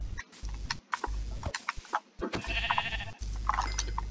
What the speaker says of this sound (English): I did find a sheep.